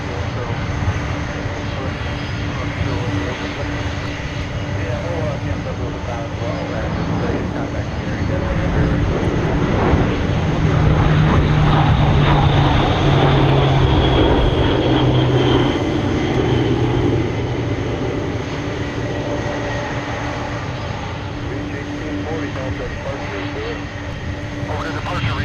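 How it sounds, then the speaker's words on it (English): A C-130 military transport aircraft departs with a loud, sustained propeller-engine roar that swells mid-way and then slowly fades, while people talk over it throughout. "Here we got another C-130 departure."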